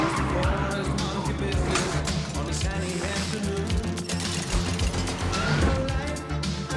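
Car pulling away with engine roar and tire noise in a continuous, busy rush, fairly close and moderately loud, with a hectic mix of sounds around it.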